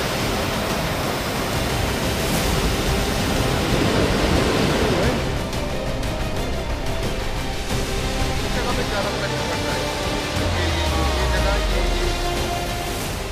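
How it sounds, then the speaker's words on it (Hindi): Loud, continuous roar of rushing floodwater fills the clip, a broad turbulent wash with a low rumble surfacing near the end. "पानी का बहाव इतना ज़्यादा तेज़ है"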